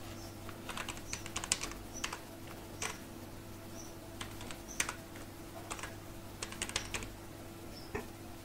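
Computer keyboard typing an email address into an online form, a quiet run of light, irregular key clicks in small bursts over a faint steady hum.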